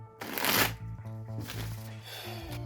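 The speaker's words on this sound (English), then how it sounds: "Let's pull Oracle cards and find out more." Oracle cards are shuffled close by in a soft, papery riffle and slide, a brief flurry of crisp card noise over faint background music.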